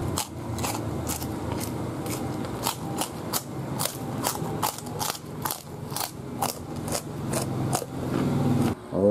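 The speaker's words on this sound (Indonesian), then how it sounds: "selanjutnya ini ada keyboard teman-teman, mau dimakan juga" Repeated sharp crunching bites into a computer keyboard, loud and close, a steady series of crisp cracks about twice a second with chewing rumble between them and no talking.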